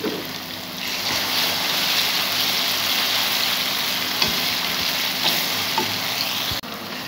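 Green chillies are tossed into a hot frying pan for a potato and egg curry, setting off a loud, continuous close-up sizzle that holds steady with a few faint clicks.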